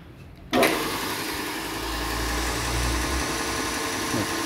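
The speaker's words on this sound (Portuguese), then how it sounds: "O motorzinho que tá nela aqui é um de 2 CV de baixa rotação" Low-speed 2 CV electric motor with a brake, found at a scrapyard, switches on with a sudden jump and then runs with a steady hum and low vibration, close by with no talk.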